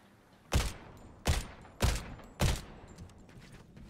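Gunfire in the video game Fortnite: four heavy, evenly spaced shots about half a second apart, loud and close, each with a short decaying tail and no talk over them.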